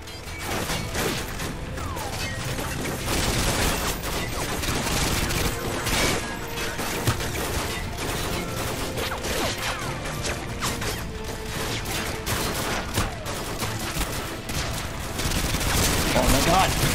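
Call of Duty Modern Warfare 2 Spec Ops fight against juggernauts: rapid bursts of gunfire and harsh impacts crackle almost without a break, loud and busy, with players talking over the shooting.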